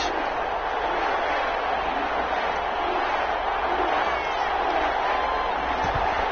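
A stadium crowd in a football video game, Denver Broncos against New Orleans Saints at the Superdome, keeps up a steady, loud, even roar throughout, with no distinct cheers standing out.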